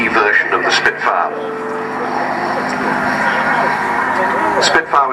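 Supermarine Spitfire LF-9E, a Mark 9 warbird, flying at an air show at RNAS Yeovilton, its engine a loud steady roar throughout with a commentator's voice over it.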